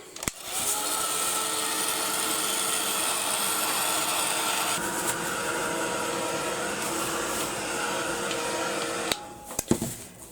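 A dryer blows steadily over a wet mixed media canvas, a loud, even whooshing whir that runs for about nine seconds before cutting off with a few clattering knocks.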